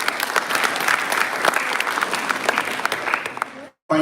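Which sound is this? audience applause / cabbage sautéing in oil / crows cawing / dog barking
audience applause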